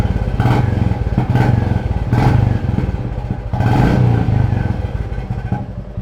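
A Royal Enfield Classic 350 motorcycle fitted with an aftermarket silencer idles with a steady low thump and is blipped through three distinct revs, close and loud, with no talking.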